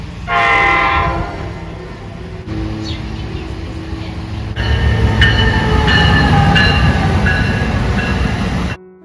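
A double-decker train at a station in the United States sounds its horn with a sustained tonal blast, followed by a rumbling engine and a second, longer horn over loud station noise.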